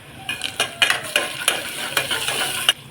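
Onion and tomatoes sizzle in hot oil in a pan, close up and steady. A spoon scrapes and stirs through them with repeated clinking strokes.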